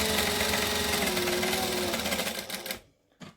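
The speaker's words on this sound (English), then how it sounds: "And I'm going to stitch 1/2 inch the whole way around." A sewing machine runs steadily stitching a slip pocket seam, a fast even mechanical whir and patter close by, slowing and stopping near the end with a short final burst.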